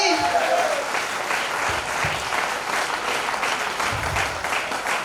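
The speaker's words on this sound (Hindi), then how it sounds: "तो ऐसी कंपनी के तालियां बजनी चाहिए, बजनी चाहिए, ऐसी तालियां बजेगी।" An audience breaks into loud, sustained applause, a thick continuous patter of many hands clapping with a faint voice briefly audible near the start.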